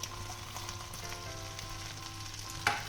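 Potato balls dropped into a pan of sauce sizzle steadily at close range, with a brief louder burst near the end as they land and stir in.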